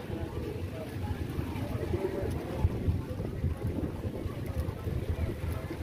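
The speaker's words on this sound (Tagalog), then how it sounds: "Yan ang lakas ng hangin dito" Strong wind roars steadily past the microphone outdoors, a dense continuous rumble with boat and water sounds mixed in.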